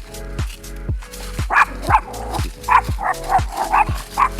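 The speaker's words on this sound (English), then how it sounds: "Remy, you gotta stop barking at people" A puppy out on a walk barks at passersby in a steady run of sharp, close yips and bow-wows, about two per second, with a constant low hum underneath.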